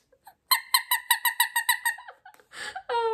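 A small squeezable rubber chicken pin squeaks loudly and close up, about nine rapid, evenly spaced honking squawks followed by a longer, drawn-out wheezing squeal.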